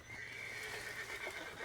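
A horse in the video game Red Dead Redemption 2 gives a brief, fairly quiet neigh over faint background sound, with no talking.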